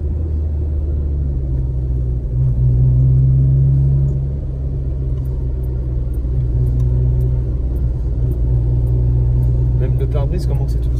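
A 1988 Mini Austin drives along with a steady low engine rumble and road noise throughout, swelling briefly louder early on, with faint rattles near the end.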